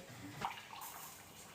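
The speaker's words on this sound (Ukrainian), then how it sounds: "Заливаємо десь приблизно 100-150 мл водички" Water is poured into a pan of chicken and eggplant with garlic and herbs as they are set to stew, a faint, short splash and trickle in a quiet kitchen.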